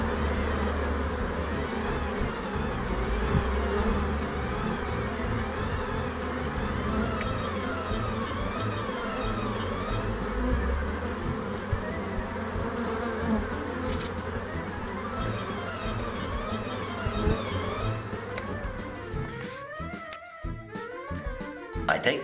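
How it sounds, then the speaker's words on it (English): A swarm of honey bees, workers and queen, shaken out of a cardboard box into a hive, giving a loud, dense, continuous buzzing that fills the whole stretch and roughens near the end. "I take the box, which is full of the swarm, and I shake it down into the hive. What a noise."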